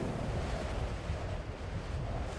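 Strong mountain wind gusts roar without a break and buffet the microphone with dense, loud rumbling noise. No voices are present.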